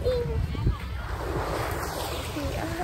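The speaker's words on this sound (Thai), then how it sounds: "ทะเล" Sea waves wash onto the beach at Bangsaen, Thailand, as a soft, broad surf hiss with wind buffeting the microphone, while voices chatter nearby over it.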